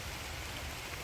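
Steady rain pours down in a Bangladeshi village, a dense, even hiss of drops on surfaces with no gaps and no voices.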